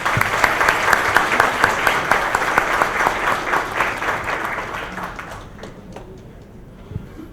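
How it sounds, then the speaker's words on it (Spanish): An audience at a judicial ceremony honoring teachers claps loudly for several seconds, then the applause thins and fades out, leaving a few scattered claps and near quiet. "También pido un aplauso"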